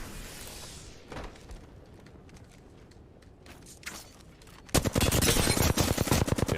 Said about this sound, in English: Good flatline shots, good leading.